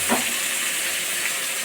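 Fish pieces fry in a pan with a steady, loud, hissing sizzle that holds constant throughout, with no talk over it.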